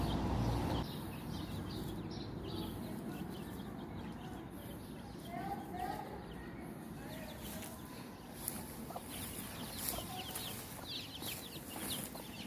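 Several chickens, including young birds raised for sexing, cluck and call softly at a distance over steady farmyard background noise, with scattered soft scuffs and no speech.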